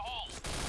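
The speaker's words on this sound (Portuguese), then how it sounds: "os caras estão atirando nós ali" A single loud burst of gunfire from the Point Blank shooter game cuts in abruptly after a moment of tonal game sound, filling the clip with harsh noise.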